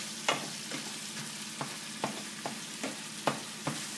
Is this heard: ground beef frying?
yes